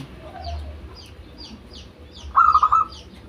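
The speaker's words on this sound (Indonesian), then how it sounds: "Ini punyanya Mas ini perkututnya gacor-gacor nih, iramanya bagus-bagus semua" A pet zebra dove (perkutut) with a strong, well-rhythmed voice gives a short, clear run of cooing notes late on, rising above a low background murmur and faint chirps.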